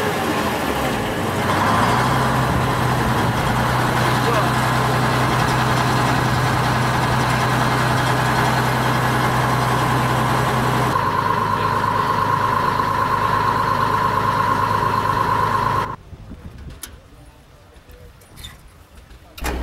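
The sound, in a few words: Model 80 two-cylinder pony start tractor starting and running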